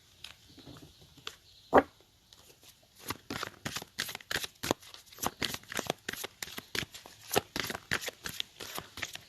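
Tarot cards being shuffled and drawn, a quick run of crisp riffling flicks and slaps close up after one sharp snap, steady and alone with no talking.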